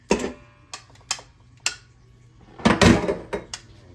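Meat dropped into a cooking pot for red beans and smoked ham shanks, a handful of separate close clunks and knocks with a denser clatter near the end.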